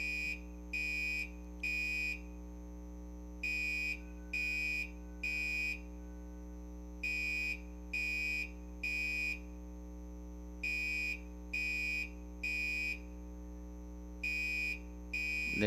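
A building fire alarm set off by mistake, sounding a repeating pattern of three loud electronic beeps then a pause, cycling steadily over a constant low hum, with no voices heard.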